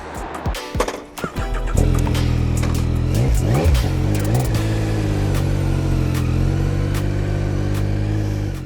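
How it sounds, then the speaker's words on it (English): A Yamaha Tracer 9 GT's 890cc inline-triple engine starts with a few blips, then revs up and settles into a steady, throaty drone as the bike rides along, close and loud. "This Euro 5 890cc CP3 engine is one of the best inline triple engines out there."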